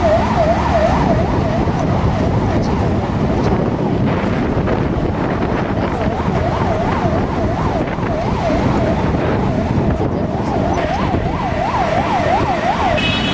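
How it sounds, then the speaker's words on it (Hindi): A wailing ambulance siren rises and falls repeatedly over a loud, rumbling traffic and wind wash. "यहाँ पर हमारे सामने है एम्बुलेंस"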